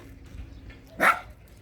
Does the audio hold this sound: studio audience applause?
no